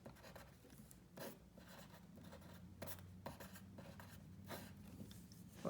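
Pen or marker writing on a board or paper while working through a logarithm problem: soft scratchy strokes in short bursts with brief pauses, close and fairly quiet, with no talking.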